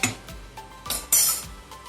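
A ladle scrapes and clinks against a pot while stirring chicken biryani with basmati rice, several short metallic knocks and scrapes close by, with no talking.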